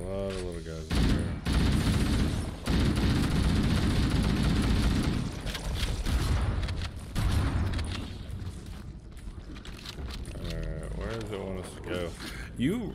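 Dense gunfire and shotgun blasts from the video game Halo CE during a Flood fight, with rapid rattling bursts, mechanical reload clicks and booms that fill most of the stretch before thinning out toward the end.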